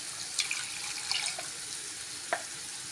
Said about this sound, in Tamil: இந்த ஸ்டேஜில் இந்த கிரேவிக்கு தேவையான அளவு நம்ம தண்ணி சேர்த்துக்கலாம்.